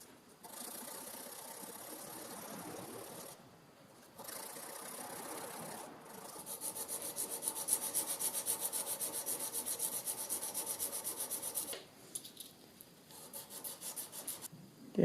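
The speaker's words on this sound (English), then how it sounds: "now that I've got the blade formed with the file, I'm going to switch to sandpaper" Micro carving chisel blade rubbed on 220 grit sandpaper, close raspy scraping in sustained strokes with brief pauses, the later stretch turning into a rhythmic back-and-forth rasp.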